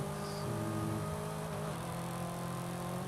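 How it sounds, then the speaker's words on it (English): A car engine runs steadily, giving a quiet, low droning hum with slowly shifting pitch throughout, with no talking. "Does the engine usually sound like that?"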